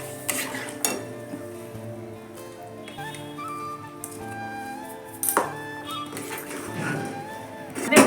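Rice flour dough for chhara pitha is stirred in a pot, a spoon scraping and clinking against the metal in irregular bursts, with soft background sounds between strokes.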